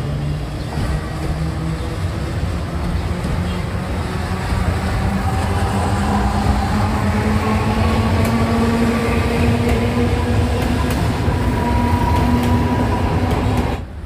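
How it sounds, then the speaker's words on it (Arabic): A number 1 tram in Alexandria pulling out of Cleopatra Hammamat tram station toward Sidi Gaber El Sheikh, a loud, close, steady rumbling drone with rising motor whine across the whole stretch and no talk. "الترماي"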